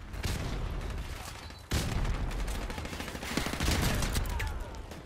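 Gunfire rattles through a Call of Duty: Modern Warfare Remastered multiplayer match as a steady stream of rapid automatic shots with scattered louder cracks, continuous and fairly close.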